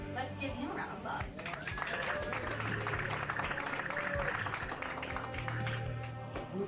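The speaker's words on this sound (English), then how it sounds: "Let's give him a round of applause." Audience applause for a performer about to play songs with his band, scattered claps rising into a steady round of clapping under a nearby talking voice.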